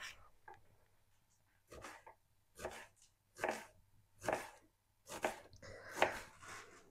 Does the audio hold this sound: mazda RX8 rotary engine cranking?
no